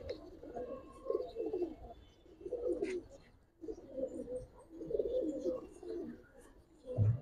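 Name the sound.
original Napta pigeons cooing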